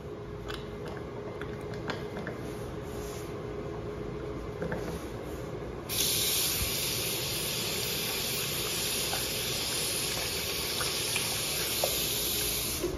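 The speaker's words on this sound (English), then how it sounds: "We have a triple S Xlerator." An Excel Xlerator Triple S hand dryer with a dotted nozzle in an Ocean State Job Lot store restroom in Groton, Connecticut, switches on partway through, its loud steady high-pitched rushing air blast replacing quieter room noise and running continuously to the end.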